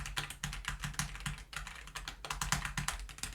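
Heavy typing on a Kzzi I75 low-profile mechanical keyboard, with rapid, continuous close-up keystrokes that bottom out in a dense, uneven clatter and no talking.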